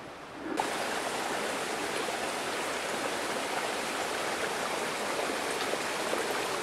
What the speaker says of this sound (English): Here's a brook with a little more spirit.